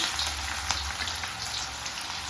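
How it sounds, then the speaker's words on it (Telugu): Onions hit hot oil in a kadai and fry with a steady, dense sizzle, close and continuous with no talking. "నూనె వేడైంది, అందులో ఉల్లిగడ్డలు వేస్తున్నా"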